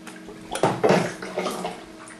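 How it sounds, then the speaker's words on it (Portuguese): Water rushes into the freshwater reservoir of a marine aquarium setup, a brief close splashing gush that swells and then eases, with no speech. "Olha lá, água subindo."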